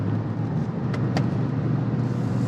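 A Dodge RAM 1500 pickup with a 5.7-litre V8 Hemi running: a steady low rumble and broad road-like roar heard from inside, with a couple of brief clicks and no speech.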